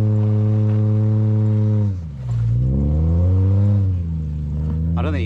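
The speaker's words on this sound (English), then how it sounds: "I don't think your car's loud enough, Troy." Loud Subaru car engine with a new muffler, driven offroad, holding a steady drone that dips then revs up again over about five seconds, rising sharply at the end.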